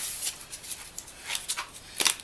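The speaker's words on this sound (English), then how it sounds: "So now we'll cut this plastic off" A blade cuts off plastic wrapping from new mower parts, a run of short crinkly rips and rustles in quick bursts, close and fairly soft.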